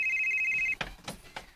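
A mobile phone rings with a steady electronic tone for under a second, then cuts off, followed by faint rustling and handling noises in a quiet room.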